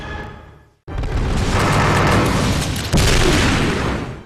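Custom tank cannon salvos in a Simple DS video game burst against a boss, a loud sustained roar of overlapping explosions after a brief quiet gap, with a second heavy blast surging in midway.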